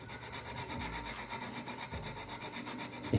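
Hand filing on metal jewelry with a triangular needle file and a rat-tail file, a quiet, steady rasping scrape in repeated strokes, close up with no voices.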